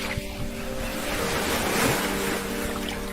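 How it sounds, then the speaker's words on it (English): Steady, rushing water like surf or pouring water, played back to draw a blind camel toward a large bowl; a continuous, fairly loud wash with a slight swell midway and no talk. "luring the animal near a large bowl using sounds of water"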